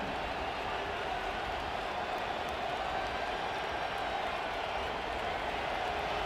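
A big stadium crowd in the College Football 25 game roars steadily as Ohio State plays Penn State, a dense wash of cheering held at one level throughout, with no voices standing out.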